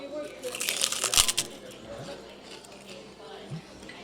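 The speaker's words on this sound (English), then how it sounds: "Hold on, you might hear the crunch." Fried chicharrones (pork rinds) crunch in a loud cluster of crisp bites during the first second and a half, with quieter chewing after and people talking.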